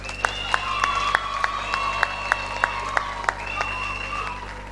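A church congregation claps in a steady, even rhythm, sharp distinct claps about three per second with a murmur of voices and an organ-like tone sustained underneath.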